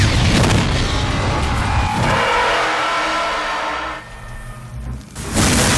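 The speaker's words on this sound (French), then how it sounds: "Maintenant, regardons comment il filme une explosion dans Time and Tide." An explosion in the Hong Kong action film Time and Tide hits as a loud burst with crackling debris, then settles into a lower rumble and a second sharp blast near the end.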